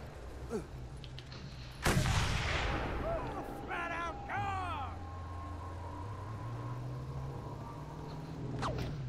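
Gunfire in the Mad Max video game: a single sharp, loud blast hits suddenly, then a swooping vehicle engine drone carries on steadily underneath.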